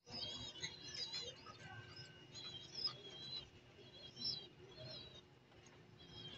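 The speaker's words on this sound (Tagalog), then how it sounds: "Kadaming ibon, no?" Several birds chirp and tweet in overlapping high calls in Las Piñas, with soft pigeon cooing underneath, steady and moderately close with no talking.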